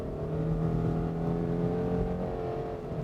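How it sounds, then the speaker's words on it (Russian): New Subaru Outback accelerating on a snowy road, a steady interior engine hum with rising harmonic tones, moderately loud and continuous. "Если надо ускориться, мы, пожалуйста, газ нажали."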